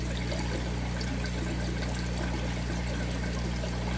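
Running water flowing steadily in an aquarium tank used for breeding Praecox rainbowfish, a constant close hiss and trickle with a faint low hum underneath, no voices.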